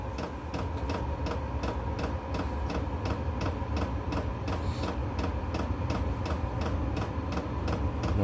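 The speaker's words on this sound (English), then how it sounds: "oh, I hear sounds like an ignition" A Vevor 12V diesel heater starting up and igniting, with a steady mechanical ticking pulse repeating about twice a second over a constant low rumble, close and fairly loud throughout.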